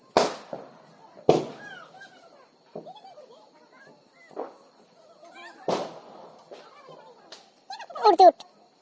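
Firecrackers burst during Diwali celebrations at a home, several sharp loud cracks spaced irregularly across the clip, with scattered voices and faint background chatter between the blasts.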